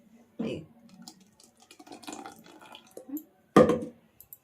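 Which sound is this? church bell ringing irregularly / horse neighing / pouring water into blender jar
pouring water into blender jar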